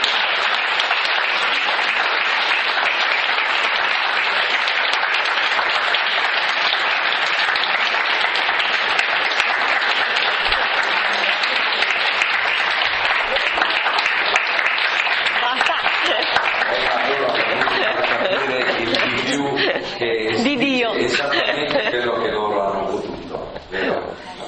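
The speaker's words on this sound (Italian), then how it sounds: "la ringraziamo di cuore con l'altro applauso" A lecture audience in an Italian hall breaks into sustained, dense applause that fills the room for most of the stretch, then fades as a voice begins speaking near the end.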